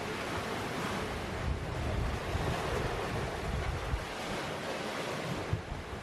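Strong wind and rushing waves surround a sailboat crossing the Pacific in 18 knots of breeze with one reef in the main and full jib, a dense, continuous roar with buffeting gusts close to the microphone.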